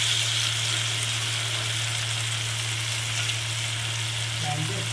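A mustard and garlic paste fries with browned onions in a pan, giving a dense, loud and continuous sizzle over a steady low hum, with no pauses.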